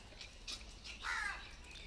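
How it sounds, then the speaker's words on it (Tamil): A crow caws a couple of times at a distance, faint over steady outdoor background hiss, with no speech during the calls. "காக்கா வேறு வரான்"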